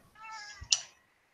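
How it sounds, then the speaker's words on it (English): A house cat gives a single drawn-out meow with a sharp tick or clunk near its end, close by and fairly loud, followed by silence. "And there's this dysfunctional kitty over here."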